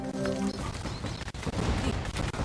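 Dense battle noise from the real-time strategy game Empires Apart, with rapid overlapping cannon blasts and gunfire crackling in a continuous fusillade without pause.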